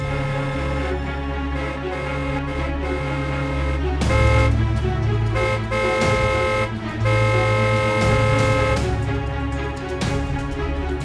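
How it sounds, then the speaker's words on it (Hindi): A car horn sounds in long sustained blasts, starting and stopping several times, loud and near over a steady background hum. "कौन है ये जो तब से पागलों की तरह हॉर्न बजाया जा रहा है?"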